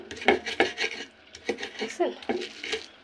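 Ginger is ground into a paste with repeated close scraping strokes in an uneven rhythm, about eight to ten rubs, and someone briefly speaks.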